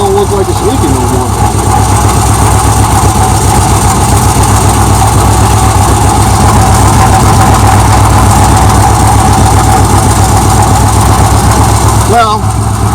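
A 1978 Chevrolet El Camino V8 idles steadily up close, a loud continuous low rumble with a regular lope, running alone for most of the stretch before a brief change near the end.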